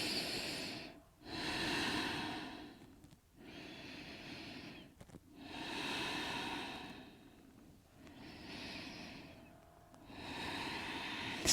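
Slow, deep breathing during a yoga peace posture in a sun salutation sequence, with airy inhales and exhales in long alternating waves, close and soft, about three full breaths with no talking.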